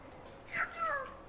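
A cat in a street of the medieval Spanish village of Valderrobres gives a single rising and falling meow, close by and clear over faint outdoor background.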